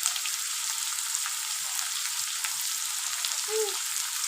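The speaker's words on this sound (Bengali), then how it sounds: "পেঁয়াজটা ট্রান্সপারেন্ট হওয়া পর্যন্ত একটু অপেক্ষা করছি।" Onions frying in a pan until transparent, a steady bright sizzle that holds even and continuous throughout, close and fairly loud, with no talking.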